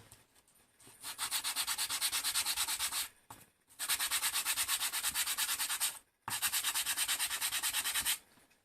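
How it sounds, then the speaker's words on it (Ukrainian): Three long bursts of rapid, rhythmic rasping as fine sandpaper scrubs back and forth across a wooden spool, separated by short pauses, close and fairly quiet. "беремо мілку наждачку шліфуємо одну сторону"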